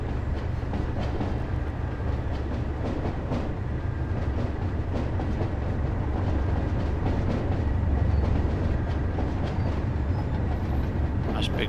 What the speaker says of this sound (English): Oh, another train coming through.